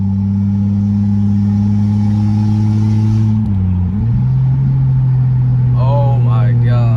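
A single-turbo Lexus GS300 engine drones loud and steady while driving, holding a low hum that dips briefly mid-clip and settles again, with a faint whistle near the end.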